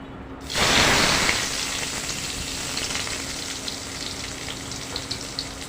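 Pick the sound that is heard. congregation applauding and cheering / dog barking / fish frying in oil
fish frying in oil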